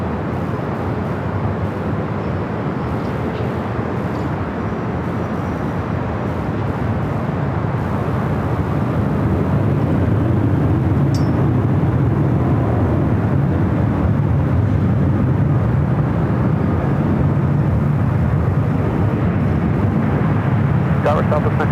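A Southwest airliner taking off from LAX runway 24 left: a broad, distant jet roar that swells partway through and holds steady, with air traffic control voices talking over it.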